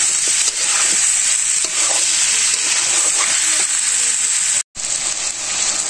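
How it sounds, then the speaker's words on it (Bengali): Chicken and potatoes are stir-fried in a pot for a village-style curry, giving a loud, steady sizzle with soft intermittent stirring scrapes and a brief dropout near the end. "আমি ভালো করে কষাইতেছি, যাতে ভালো কষা নেবো"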